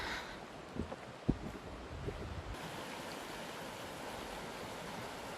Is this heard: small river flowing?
yes